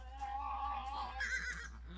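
In the battle game Ancient Warfare (ARBS), a horse lets out a drawn-out whinny that rises and wavers over a steady low background hum.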